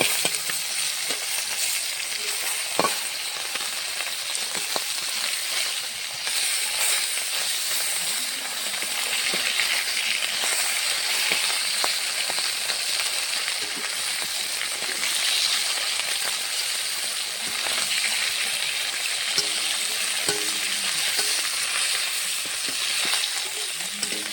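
Small hilsa fish frying in a pan of hot oil, with a dense, continuous hissing sizzle and scattered crackles and pops, close and loud throughout with no voices.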